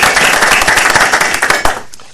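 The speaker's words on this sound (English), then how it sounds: "let's recognize him also with a round of applause." A brief burst of audience clapping at a commission meeting, dense and close, fading out after about two seconds.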